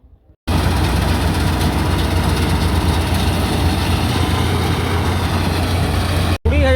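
A combine harvester engine runs in a wheat field, a loud, steady low drone that cuts in abruptly after a short quiet start and drops out sharply near the end.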